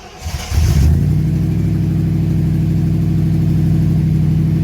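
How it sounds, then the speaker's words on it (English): A Triumph Stag engine, freshly fitted with a rebalanced prop shaft, catches after a brief crank and settles into a loud, steady idle with an even exhaust rumble close by. "Do I have any leaks in the exhaust?"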